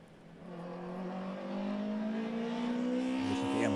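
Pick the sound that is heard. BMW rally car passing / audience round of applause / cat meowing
BMW rally car passing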